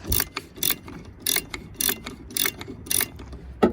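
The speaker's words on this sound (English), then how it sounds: "Number 14 or 14 millimeter socket will do the trick here" A ratchet with a 14 mm socket loosening the wiper arm nut on a Mercury Cougar, heard as bursts of sharp ratcheting clicks repeated in short strokes, close and clear, with no voices.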